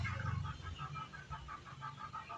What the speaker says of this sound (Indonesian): Itu ayam ngapain sih anjir?